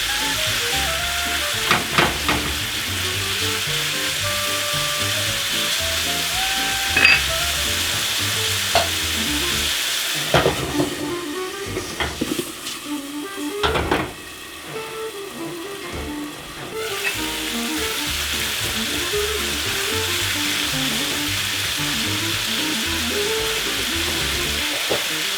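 Carrots stir-fry for pork fried rice in a hot pan, giving a steady close sizzle with scrapes and stirring clatter from a utensil running through it.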